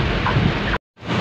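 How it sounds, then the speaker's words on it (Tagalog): Heavy rain pours in a dense, loud, hissing wash with no voices, broken by a brief cut to silence before the downpour resumes. "Lakas ng ulan."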